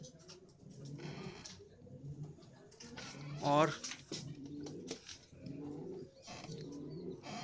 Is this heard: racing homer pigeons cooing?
yes